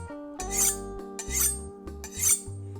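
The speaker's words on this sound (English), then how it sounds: "I need to make sure that my knife is sharpened" A kitchen knife drawn across a sharpener in three slow, even strokes, each a close, bright metallic rasp with a short gap between, over a low steady background hum.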